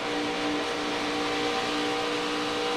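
A NASCAR Truck Series race truck runs in the draft at Daytona International Speedway, its steady engine drone holding a constant pitch with a slight easing as the driver lifts off the throttle.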